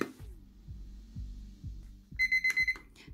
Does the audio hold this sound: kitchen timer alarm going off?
yes